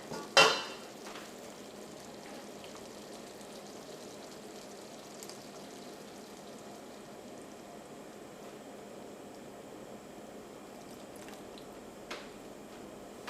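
Kadala parippu pradhaman payasam simmering and stirred in a pot after first coconut milk goes in, a faint, steady bubbling hiss with a single clunk at the start and occasional soft knocks.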